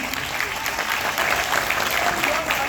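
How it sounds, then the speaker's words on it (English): Audience applause at a felicitation event, a steady dense round of clapping from a crowd, fairly loud and continuous throughout. "a round of applause for Rajdeep."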